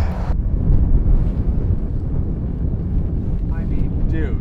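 Wind buffets the microphone while fishing from a boat on Clear Lake: a steady, close, low roar of gusts with faint voices near the end.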